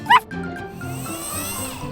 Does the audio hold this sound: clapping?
no